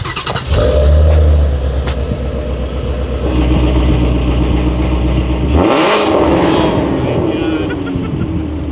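A Shelby GT350 engine roars loudly up close, revving hard once and then settling into a rumbling idle, with a whoosh of passing air.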